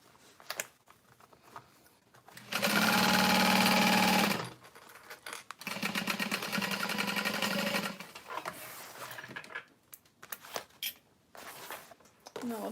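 A sewing machine stitches a Divina tote bag in two loud, steady whirring runs, the first longer, separated by a pause and followed by light handling noises.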